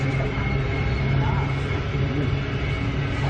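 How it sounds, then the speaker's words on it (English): A long coal train of about 84 cars rumbles past steadily in the outback, making a continuous, even roar of wheels and wagons at moderate distance with no breaks. "Just giving people an idea of the size of the coal trains by filming the whole train"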